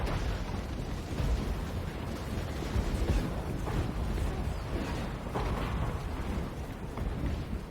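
Dense, rumbling booms of cannon fire overlap continuously in a Warhammer video game battle, a steady barrage of heavy blasts with no talking.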